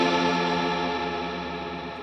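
An Eventide Ultra Pitch effect rings out a sustained chorused tail whose pitch wavers and slowly fades, steady and alone without voices.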